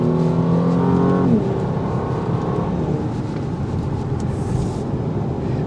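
A 2022 Porsche Panamera 4 Sport Turismo cruises on the interstate, its steady engine and road drone loud and continuous, with a rising shift-like tone early on before settling into constant cabin noise.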